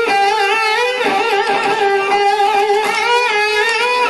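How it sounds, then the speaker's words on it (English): Guitar string bent and held with uneven vibrato, a sustained high note wobbling irregularly in pitch with no other sound. "An uneven vibrato, in best case, would sound like this."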